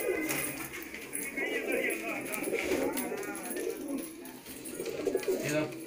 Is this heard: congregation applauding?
no